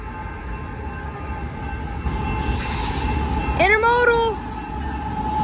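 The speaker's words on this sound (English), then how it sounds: "Pacific, freight train." A Pacific intermodal freight train rolls past with a steady rumble, and a single horn blast sounds midway before the horn tapers off under continuing rail noise.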